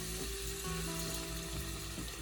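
Chicken sautéing in a pan for arroz caldo, a soft continuous sizzle with light stirring noises, quiet and close, with no talking.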